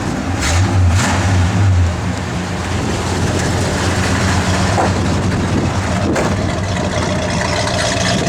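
A 1963 Chevrolet Nova convertible's engine revs up loudly at close range, swelling in the first couple of seconds and then holding a steady rumbling idle with no talking.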